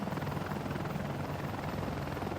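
Helicopter in the combat flight game Ace Combat: Assault Horizon, a faint, steady whirring rotor drone with a broad noisy hum and no other sounds.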